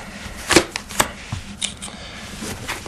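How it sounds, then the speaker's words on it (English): Playing cards riffled in a hand-held interlacing shuffle, with two sharp close riffle bursts early and softer card flutters and taps after, quiet and near with no voices. "It's a highly effective shuffle"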